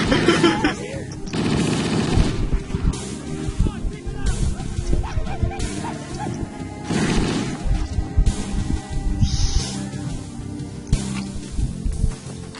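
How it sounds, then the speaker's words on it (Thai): Gunfire in the video game Halo: Combat Evolved, with repeated automatic bursts and single shots over a busy game soundscape, plus intermittent voices. "อะไรเมื่อกี้ใครยิง"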